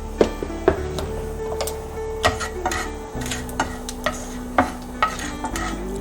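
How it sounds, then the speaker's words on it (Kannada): Urad dal fries in a pan while a spoon stirs it, giving a soft continuous sizzle broken by regular sharp taps and scrapes of metal against the pan, close and clear with no voices. "ಇವಾಗ ಇದನ್ನು ಫ್ರೈ ಮಾಡಿಕೊಂಡು"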